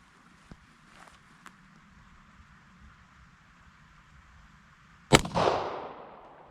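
A single sharp 9mm pistol shot fired with Hornady Critical Defense ammunition into a squash comes after several seconds of quiet outdoor ambience with faint clicks, its report loud and close, trailing off into an echoing decay.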